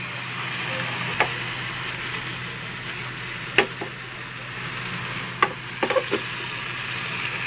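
Mushrooms and pork stir-frying in a pan, a steady soft sizzle with occasional sharp clicks and scrapes of stirring, close and alone without talk.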